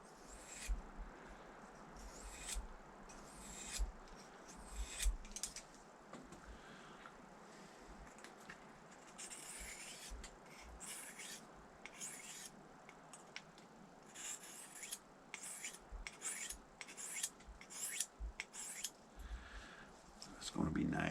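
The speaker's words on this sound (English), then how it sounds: "These thinner blades are real easy to sharpen" A thin knife blade is sharpened outdoors in the wilderness, with repeated scraping and rasping strokes in uneven bursts, fairly close and moderately loud over a steady windy background.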